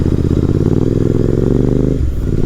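Royal Enfield Continental GT650 motorcycle, a 2023 model with a six-speed gearbox, riding at high speed, its engine droning loud and steady with a harmonic whine before easing off near the end.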